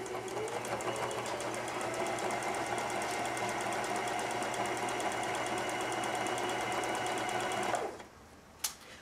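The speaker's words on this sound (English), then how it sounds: "So I'm going to go ahead and sew my seam" A sewing machine stitches a fleece seam for a hat in a fast, even run of needle strokes, loud and close, then stops abruptly near the end before a single sharp click.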